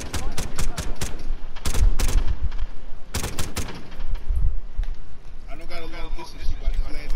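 Bursts of rapid gunfire crackle through a Call of Duty: Modern Warfare match, clusters of sharp shots in quick rhythm, loud and close, with players talking over the action.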